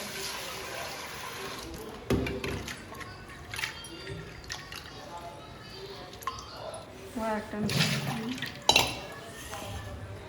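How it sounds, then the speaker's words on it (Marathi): Fresh mint leaves rinsed under a running kitchen tap in a village home. Water splashes and trickles at close range, with a few clinks of utensils, and a person talks over it throughout. "इथं पुदिना आहे तो आता धुवून घेतला"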